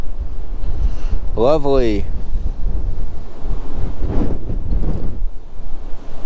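Strong wind buffets the microphone with a constant low roar at a lake during a trout fishing trip, while someone speaks briefly over the gusts.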